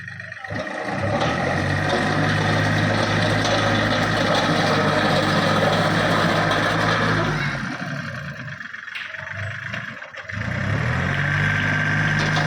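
A Yanmar 39 hp farm tractor's diesel engine runs loud and steady nearby, its low drone dropping and shifting partway through before settling again.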